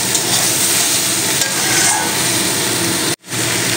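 Tomato cut into long, potato-like strips stir-fried in a pan for a kohlrabi dish: a dense, steady frying hiss with scraping stirs that drops out briefly near the end, then resumes.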